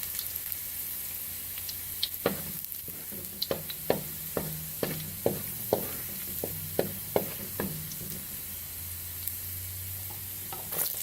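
Garlic sizzles steadily in a frying pan for pancit while a utensil stirs it, scraping and knocking against the pan in a loose rhythm of sharp taps over the continuous hiss.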